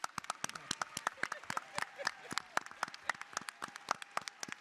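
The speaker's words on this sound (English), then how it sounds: "Give yourself a round of applause." Sparse applause from an audience at a Black Caucus meeting on the first day of the DNC in Chicago, with a few dozen hands clapping in a quick uneven patter that stays fairly close and moderate.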